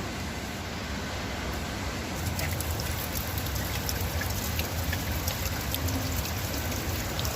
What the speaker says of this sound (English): There's a brook.